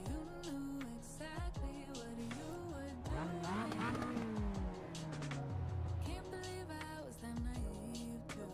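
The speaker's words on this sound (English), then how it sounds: "I do like listening to this engine though, it's a really nice sounding engine." Race car engine in the sim racing game iRacing, revving up and down through gears with rising and falling pitch sweeps, steady and close throughout, with occasional tire squeal.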